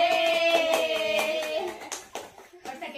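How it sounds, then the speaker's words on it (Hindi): Several people clap near the end among a group of friends, the claps scattered and uneven after a stretch of lively talk, including a voice, with a tonal sound ringing under the voices. "तालियां।"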